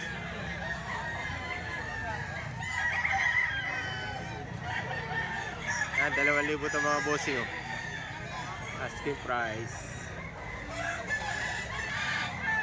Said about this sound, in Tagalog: Daming manok dito mga bossing